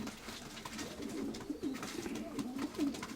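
Pigeons in a Ukrainian fancier's loft, including a white hen, coo softly and repeatedly as a low rolling murmur, close by and steady over quiet background noise.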